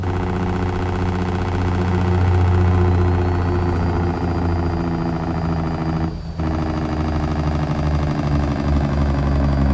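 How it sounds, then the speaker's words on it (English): A truck engine with the Z-Mods N14 Select Plus sound mod idles in American Truck Simulator, a steady, loud, low diesel rumble with a brief dip near the end. "Engine sound Z-Mods N14 Select Plus."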